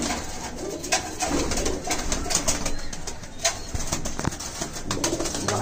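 Golden pigeons, including the Kasoori breed, coo repeatedly in a coop, soft throaty calls overlapping with occasional wing flaps and a busy background.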